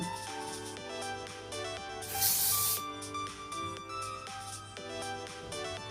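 Hairspray lacquer gives one short, loud burst of hissing spray onto hair, lasting under a second, over steady background music.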